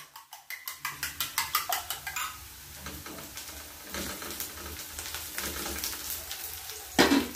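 Onions are cooked in a pan for an omelette, a soft sizzle under a series of rhythmic scraping and stirring strokes against the pan, with a sharper clatter near the end.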